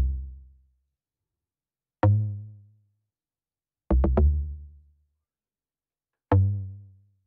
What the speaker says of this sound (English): I layered that with a log drum preset that I created